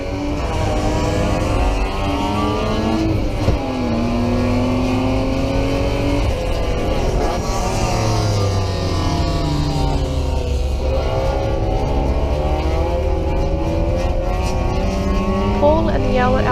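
An Alfa Romeo Alfasud TI race car launches at a race start on a wet track at Taupo, its loud engine revving in repeated rising sweeps as it gathers speed amid other nearby engines.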